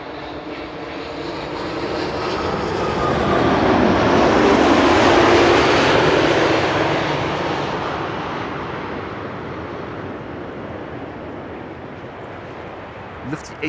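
A 10-year-old TUI Boeing 787 Dreamliner arrives at Schiphol from Bonaire, its broad engine roar swelling to a loud peak mid-pass and then fading steadily as it moves away.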